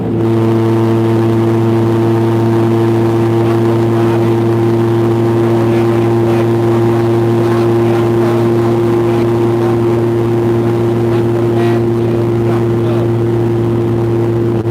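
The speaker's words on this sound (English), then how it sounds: "One day I'll fix my muffler." A vehicle engine idles loud and close with its muffler exhaust rotted off, giving a steady, deep, rattling drone that holds for about fifteen seconds without a break.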